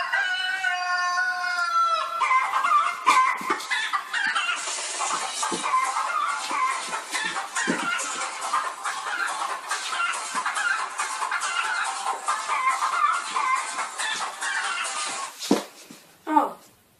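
A Crazy Chicken ringtone plays: a short rising electronic intro, then a long, busy stretch of loud, dense chicken clucking and rooster-like crowing that cuts off abruptly near the end.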